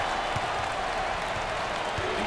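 A college basketball crowd applauds during a Tennessee at North Carolina game, a steady wash of clapping and cheering that fills the arena, loud and continuous throughout.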